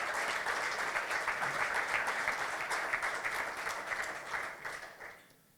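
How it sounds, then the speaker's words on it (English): Steady audience applause fills the room with dense clapping for the speakers present, holding at even strength for about five seconds before thinning out and fading away at the end. "please give a big round of applause for the talent that's in the room"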